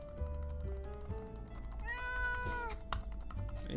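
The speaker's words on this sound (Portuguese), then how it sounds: "Esse gato vai dar merda, né? Aqui dentro." A cat meows in the survival video game 60 Seconds, a rising-then-falling cry heard once, mid-loud over steady game music and background sound.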